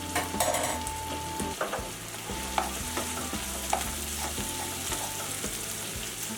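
Chopped garlic and onions frying in a soup pot, a steady close sizzle with intermittent spoon scrapes and light clinks as they are stirred, fairly quiet with no talking.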